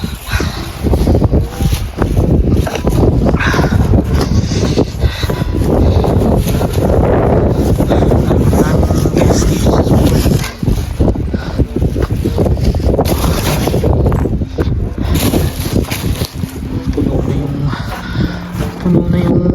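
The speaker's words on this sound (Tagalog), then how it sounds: "Sakit sa mukha ng hampas ng hangin." Strong, cold wind buffets the microphone during heavy snowfall, a continuous loud roar with gusting surges and rumbling low-end turbulence throughout.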